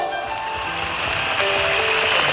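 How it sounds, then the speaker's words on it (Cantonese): Audience applause at a Cantopop concert of classic Polydor songs, a steady wash of clapping sustained for a couple of seconds, with held musical tones ringing over it. "俾啲掌聲好唔好？"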